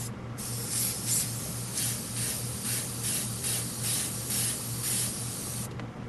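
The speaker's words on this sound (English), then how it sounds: "I think we're spraying too hard." Steady airbrush hiss sprays in short pulsing bursts for several seconds, with a low constant hum underneath.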